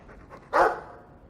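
A guard dog in the Dragon Age II video game gives one short, sharp bark that rises out of a quiet background after some soft low sounds and fades quickly.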